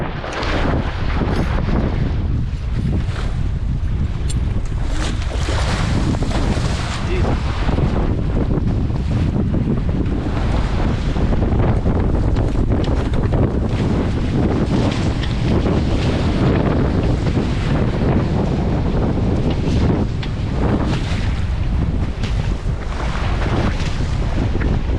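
Wind and surf waves while sailing a Tornado catamaran through rough chop: loud, continuous wind buffeting the microphone over rushing, splashing water for the whole stretch, with no voices.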